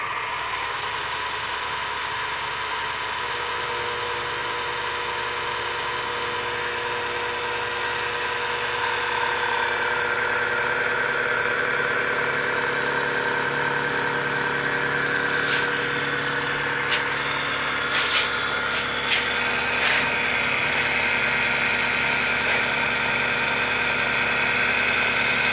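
A machine head spins at very slow speed while shaping a flywheel mold profile, a steady mechanical hum and drone with a few faint scraping ticks later on, and no talking.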